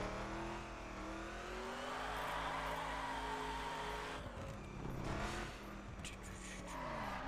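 A 1969 Dodge Charger in The Crew racing game revs and drifts, a steady engine drone with rising revs and a brief tire squeal near the end, loud and alone.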